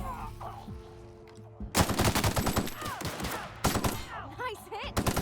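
Gunfire in The Outer Worlds, loud rapid bursts of shots in clusters that break into a calmer stretch, with a voice talking between and under the volleys.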